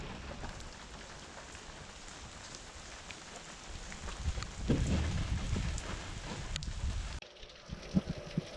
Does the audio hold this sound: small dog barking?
no